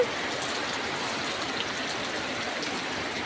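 A continuous, even wash of falling rain, a soft broadband patter with no talk and no breaks.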